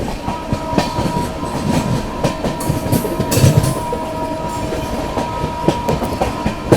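The Humsafar Express, ICF coaches, runs at speed past the Brahmaputra Mail with loud, continuous rumbling and clattering wheels, a steady rhythmic clickety-clack and rushing wind heard from close inside the train.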